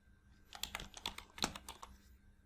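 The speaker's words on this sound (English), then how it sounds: "Active cell reference B9, type initial investment." Quick keystrokes on a computer keyboard, a busy burst of clicks with one sharper tap near the middle, close and quiet, with no talking.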